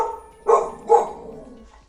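A female Labrador–Staffordshire cross dog gives two deep, loud barks about half a second apart, close by and with no voices over them.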